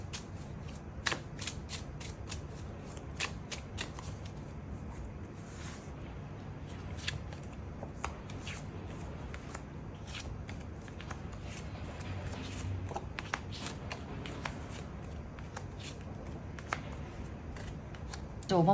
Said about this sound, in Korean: 시기적인 부분 추가 카드 뽑아보도록 하겠습니다